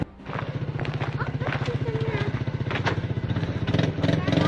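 A quad ATV engine idles and chugs close by in a steady, rapid rhythmic putter, with a person talking over it.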